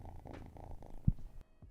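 A cat purrs while resting on a person's lap, a soft close rhythmic rumble with a brief thump partway through.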